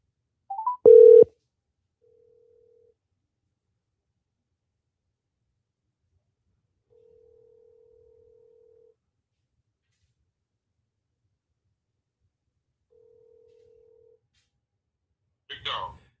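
A phone dials to add a caller to a live call: one short loud tone burst at the start, faint steady tones in between, and a brief sound at the very end.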